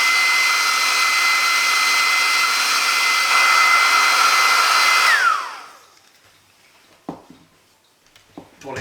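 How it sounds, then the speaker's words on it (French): A hair dryer blows with a loud, steady whine for about five seconds while drying a 1/24 scale Nissan Skyline R34 GT-R model kit, then winds down and stops, followed by a few faint clicks and handling noises. "un petit coup"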